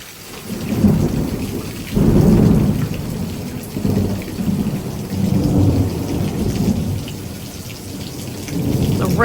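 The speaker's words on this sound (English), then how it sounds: "The rain and the wind's picking up." Severe thunderstorm with heavy downpours, 30 mph gusts and close lightning, steady loud rain drumming on surfaces with repeated deep thunder rumbles and surging wind, no talk.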